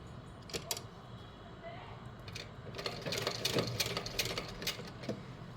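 Sewing machine stitching a blouse, a soft, fairly faint mechanical patter with clicky ticks that grows busier toward the end.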